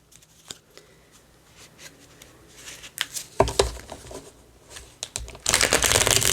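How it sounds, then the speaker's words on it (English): Oracle cards being shuffled by hand, soft riffling and slapping of card stock in irregular bursts, growing into a dense rapid flutter of cards near the end, close and without talk. "I didn't pre-shuffle these, if you were wondering why I'm shuffling them."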